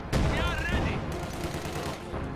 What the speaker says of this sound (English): MP40 gunners are actually managing to keep this blob suppressed a little bit